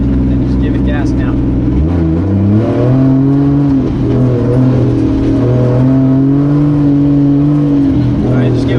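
A 2JZ-swapped 240SX drift car accelerates, the engine note rising in clear stepped tones through the revs and holding steady, loud and close from inside the car, with people talking over it.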